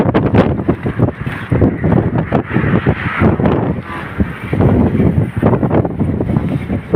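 Strong wind buffets the microphone on Panguil Bridge, Tangub City, in a constant loud roar with gusty surges, no pauses throughout.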